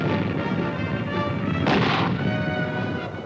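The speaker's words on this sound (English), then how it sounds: "And mortar rounds." Mortar rounds exploding during Vietnam War combat, a heavy continuous rumble with a louder burst of explosion midway, distant and dense with no voices.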